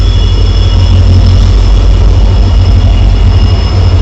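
Kazipet–Dadar Express pulling into the Karimnagar platform, a very loud close rumble of wheels and engine with a thin high squeal running throughout, steady and unbroken with no voices.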